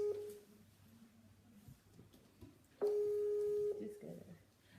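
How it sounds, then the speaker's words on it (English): A steady electronic Skype call ringing tone sounds in a short burst, then returns louder for about a second, with faint talk and background noise between the tones. "And it's ringing on Skype, it's not picking too."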